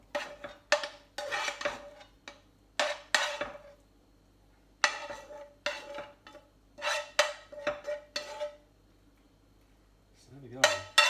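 Penne pasta with capers, tomato and chilli is served into a bowl, with repeated bright clinks and scrapes of cutlery against dishes in quick clusters and short pauses, close by in a quiet kitchen.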